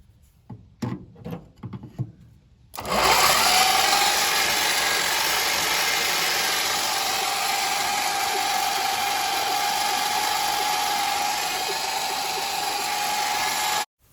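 A 1971 Dodge Charger Super Bee engine turning over after pushrod and lifter work, a loud steady mechanical drone that holds for about eleven seconds after a few faint clicks and knocks, then cuts off abruptly.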